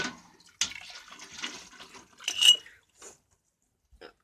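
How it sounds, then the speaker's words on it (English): Glass canning jars lifted out of very hot water while making habanero pepper jelly, with a few splashes and drips and light glassy knocks, close and intermittent. "Now I'm pulling out my jars from this very hot water"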